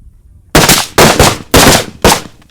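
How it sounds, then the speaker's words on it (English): Four loud, close rifle shots ring out at an outdoor shooting range during a close-quarters training drill, evenly spaced about half a second apart, each with a brief ringing decay. "See where that shot goes."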